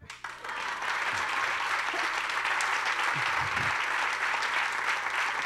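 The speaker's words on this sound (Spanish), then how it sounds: "A eso te aplauden." Studio audience applause on a Colombian comedy talk show, a dense, steady wash of clapping that swells in after a brief pause and holds loud and even throughout, with no talk over it.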